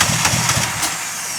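A Toyota Starlet engine with a blown head gasket and low compression, running rough and uneven with a loud, raspy, pulsing exhaust note up close.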